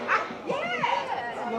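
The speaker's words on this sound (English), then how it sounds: "my dog's getting all excited" An excited dog gives short yips and whining barks close by, mixed in with people talking and chatter in an early-evening outdoor setting.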